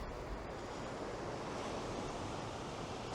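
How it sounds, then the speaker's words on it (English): Ocean surf washes back and forth over a rock on a sandy beach as the tide goes out, producing a steady, broad roar of churning water with no breaks, close and fairly loud. "The waves are coming and going over this rock"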